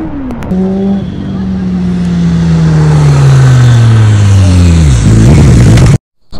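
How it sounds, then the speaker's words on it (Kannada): A BMW K1200 motorcycle engine revs up hard, its pitch climbing and holding as a loud, close roar for several seconds before it cuts off abruptly. "BMW K1200 ಗಾಡಿನ ನಮ್ಮ ಬ್ರದರ್ದು ಓಡಿಸ್ತಾ ಇದ್ವಿ"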